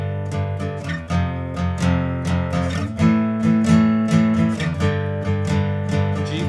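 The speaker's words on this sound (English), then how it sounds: "So let's just do a down, down, up, down, up strum." Electric guitar power chords strummed in a down, down, up, down, up rhythm, changing between G5, F5 and A5 shapes; steady, close and moderately loud strums with no talking.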